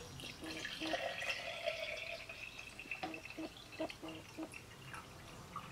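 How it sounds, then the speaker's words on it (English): Water is poured into a Cauldryn smart mug, giving soft close trickles and a series of small drips and splashes, quiet and alone without talk. "I got some water right here and I'm just going to pour it into the mug."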